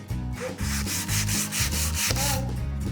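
Rhythmic back-and-forth sanding of a spalted beech piece turning on a lathe, close and loud, with regular strokes of about two per second and a low mechanical rumble underneath.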